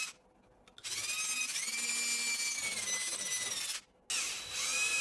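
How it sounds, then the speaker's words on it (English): A 3/16 inch drill bit bores through a clamped acrylic fin, giving a steady, bright whine in two bursts: a long run of about three seconds, a brief pause, then a shorter run, with no talking. "Using a 3/16 inch bit, I am drilling through the acrylic fin."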